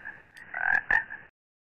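A frog by a river gives a short burst of croaks, two louder rasping calls in quick succession between softer ones, heard up close and alone before the sound cuts off.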